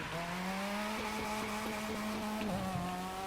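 A Mazda RX-7 FD drift car in The Crew 2 racing game, its rotary engine holding a steady high-revving buzz with slight pitch wobbles and faint tire noise, with no talking.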